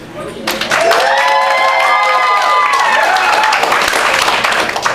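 Loud, sustained applause from a large crowd, with cheering voices and tonal sounds rising over the clapping throughout.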